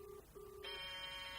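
A telephone in a radio drama rings as Captain Penn's phone, with two electronic trill bursts followed by a brighter, buzzier sustained ring, moderately loud and close, with no voices over it.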